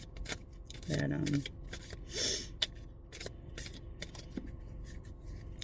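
Tarot cards are shuffled by hand in short papery riffling bursts, with a brief soft rasp and small clicks, close to the microphone, while someone speaks a single word.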